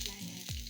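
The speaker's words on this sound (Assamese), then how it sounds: "ট্ৰেখন গৰম হ'ল, এতিয়া মই দিম ফৰিংকেইটা, ফৰিংকেইজনী দি দিলোঁ" Grasshoppers frying in a hot pan without oil, a faint steady sizzle with one brief stirring scrape, close and quiet.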